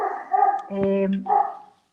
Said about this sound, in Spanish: perdón por mis perros, pero tengo muchos perros